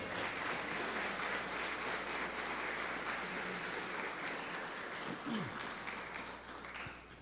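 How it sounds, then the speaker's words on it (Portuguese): A church congregation applauding in praise, a dense steady wash of clapping filling the room at moderate distance, quite faint overall and tapering slightly toward the end. "E você crê, dê uma salva de palmas para Jesus."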